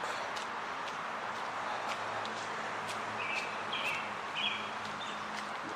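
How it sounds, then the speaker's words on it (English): Springtime songbirds in a tree canopy give a few faint, distant chirps and short trills over a steady outdoor hiss along a neighbourhood running route. "The birds in the canopy singing."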